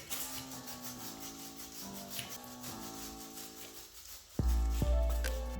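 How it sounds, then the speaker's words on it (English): Grunge brush scrubbing the chain of a Honda CBR600RR motorcycle, steady rhythmic rubbing strokes close up, ending in a louder scraping burst, no voices. "The grunge brush only has 3 sides, so of course you can only clean 3 sides of the chain at a time."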